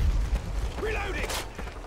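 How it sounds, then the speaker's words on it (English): Mechanical clicks and a metallic rack sound of a weapon being reloaded in Call of Duty Modern Warfare, short and close amid dense game noise. "Reloading."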